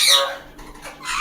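An African grey parrot from a breeding pair squawks in two harsh, bright bursts, one at the start and one at the end, loud and close, with a quieter gap between them.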